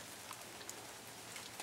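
Rain falls steadily on a grey day, a dense even hiss with scattered patters of drops, continuous and alone without voices.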